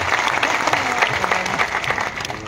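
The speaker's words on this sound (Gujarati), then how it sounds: "એક વાર જોરદાર તાળીઓ પાડો" A crowd at a political rally in Gujarat breaks into loud, continuous applause, many hands clapping at once in a dense steady roar with faint voices underneath.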